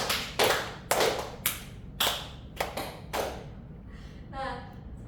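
A teacher claps her hands in a classroom, making a series of sharp, close claps in an uneven rhythm. A voice speaks briefly near the end.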